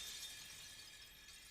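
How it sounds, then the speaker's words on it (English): Something shatters in the anime Mushoku Tensei, heard as a faint, steady hiss of fine fragments that fades gradually over a second and a half, with no voices. "It just shattered."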